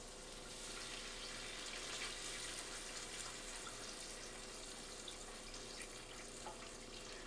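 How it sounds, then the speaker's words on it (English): A whole bottle of chicken stock pours into a hot greased pot while cooking ribs and sides, a steady broad liquid rush with faint sizzling, continuous and fairly quiet without talk. "I'm going to take my chicken stock and I'm going to add just a whole bottle of chicken stock"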